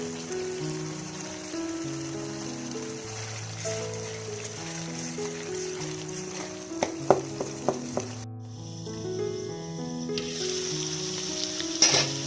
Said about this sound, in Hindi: 10 से 15 मिनट मैं इसको भूनूंगी।